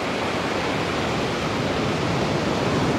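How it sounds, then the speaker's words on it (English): Ocean waves breaking on the shore at Myrtle Beach make a steady, continuous broadband roar of surf with no pauses and no voices. "Just love that sound of the ocean."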